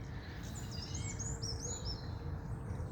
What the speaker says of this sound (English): I can hear parakeets.